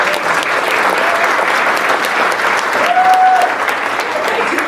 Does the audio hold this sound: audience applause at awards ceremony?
yes